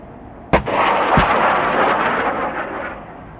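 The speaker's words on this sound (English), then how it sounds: "Missile fired and engaged target." A missile launched at a target during a military demonstration: a sharp loud blast followed by a sustained roaring rush that fades slowly, heard alone without voices.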